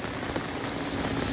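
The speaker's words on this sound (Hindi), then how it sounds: "ये देखो बारिश बहुत तगड़ी हो रही है" Heavy rain pours steadily in a dense, even hiss, close and continuous throughout, with a faint low engine-like hum beneath and no talking.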